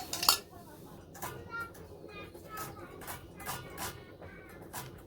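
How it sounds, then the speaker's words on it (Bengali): A knife chops onions on a board in a village kitchen, giving a string of sharp, irregular taps. Voices and children's chatter carry in the background. "এখন পেঁয়াজগুলো কাইটে নেই তারপরে মরিচ কাটবো"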